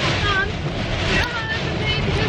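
Strong gusting wind roars around a vehicle driving through a storm, a loud, steady broadband rush with surging gusts throughout, and voices briefly audible beneath it.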